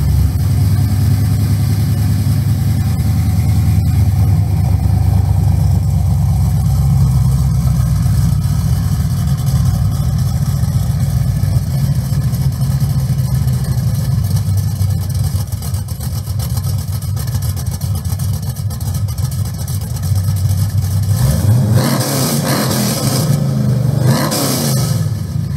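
Rebuilt engine mounted on an engine stand, running steadily with a loud, continuous low rumble and building to revs near the end.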